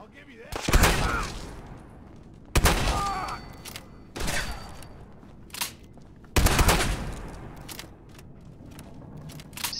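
Gunfire in Fallout 4 comes as several sharp, loud bursts of shots separated by short gaps, with quieter ambient game sound between them.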